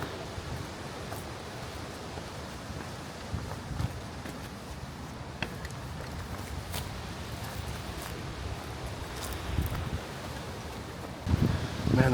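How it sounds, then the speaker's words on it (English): Strong wind blows across the mic on a forested hiking trail, a continuous broadband roar with faint rustling and a few scattered knocks, rising slightly near the end; no talking. "the wind is getting strong. I'm getting out of the trees and it's really getting strong"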